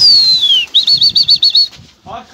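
Birds burst out in a quick run of wing flaps, about seven close loud beats, after a falling whistle-like tone, with a chirpy flutter at the end.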